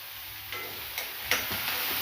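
Onion frying in a little oil in an iron kadai, a steady close hiss of sizzling with a few soft stirring ticks and clatters scattered through.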